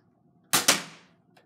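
A Nerf blaster fires a foam dart on an indoor shooting range: two sharp, loud, close snaps in quick succession with a brief ringing tail, then a faint knock, with no talk.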